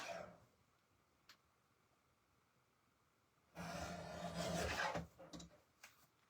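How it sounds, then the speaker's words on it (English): Cardstock edge being trimmed with a paper trimmer, a single loud rasping slide lasting over a second after near silence, followed by a few small taps, close by. "I'm going to trim that edge off really quick"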